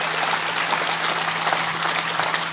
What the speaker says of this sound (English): That guy's just clapping to keep himself awake now